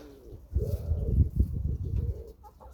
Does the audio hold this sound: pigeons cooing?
yes